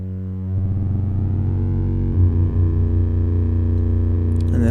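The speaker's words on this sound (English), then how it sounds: "the sine wave output of generator number 2 is frequency modulating generator number 1" A sustained electronic tone from a Sputnik Modular dual oscillator, one sine wave frequency-modulating the other, with rich, shifting harmonics that thicken and wobble as the modulation changes, loud and steady throughout.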